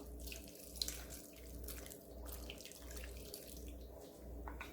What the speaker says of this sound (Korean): 여기에 물을 부어줍니다. 물 한 200ml 부어주세요.